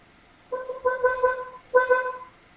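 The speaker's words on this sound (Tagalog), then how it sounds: "Tingnan natin kung tutunog yung busina natin." A Nissan Navara car horn sounds after a clock spring (spiral cable) installation, giving one short honk followed by a longer double blast, then a final firm honk, loud and close with no talking.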